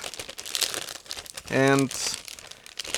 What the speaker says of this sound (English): It's a resealable plastic bag,